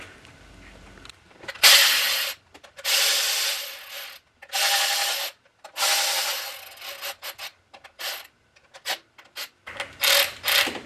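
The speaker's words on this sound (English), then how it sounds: "Alright, we'll get our 10 millimeters and screw those down." A ratchet snugs down 10 mm bolts holding the spark plug coils on a Toyota Prius engine during a head gasket job, giving bursts of rapid clicking ratchet strokes separated by short pauses, close and fairly loud, with no talk.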